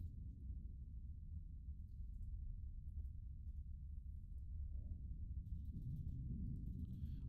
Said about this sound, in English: Just sounds like an ominous thunderstorm in the distance.